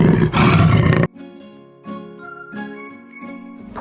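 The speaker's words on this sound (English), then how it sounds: "jaguar." A jaguar gives one loud, close roar lasting about a second, followed by a tinkling, jingly musical backdrop with soft rhythmic notes.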